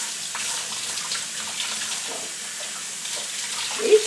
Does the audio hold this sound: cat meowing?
no